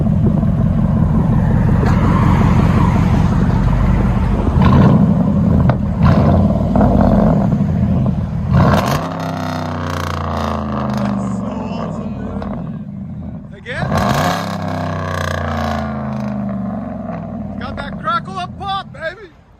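Engine of a car fitted with true dual exhaust idling steadily at close range, a deep continuous rumble with a rougher surge midway and people talking over it throughout.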